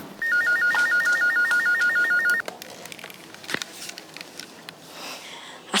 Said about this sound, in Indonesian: Coba lu telepon ke rumahnya.